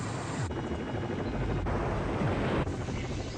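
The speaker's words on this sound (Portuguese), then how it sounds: "o piloto mantém o helicóptero firme acima das pedras" A helicopter holds a steady hover above rocks, its dense rotor and turbine roar loud and constant, with a regular rhythmic blade thump throughout.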